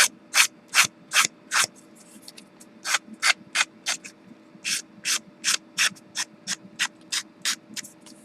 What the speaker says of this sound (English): I'm going to sand just a little bit on the edge, just to kind of help shape that where I cut rather quickly